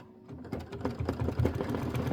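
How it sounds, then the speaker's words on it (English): A sewing machine runs a long basting stitch through the layers of a chenille quilt, a close, steady mechanical chatter of rapid needle strokes that starts after a brief pause and keeps going without talk. "Basting stitch."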